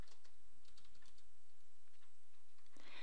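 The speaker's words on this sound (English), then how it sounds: "Next, we type in the item number, the quantity," Quick, close keystrokes on a computer keyboard while entering data into a spreadsheet, a brief burst of steady, light clicking.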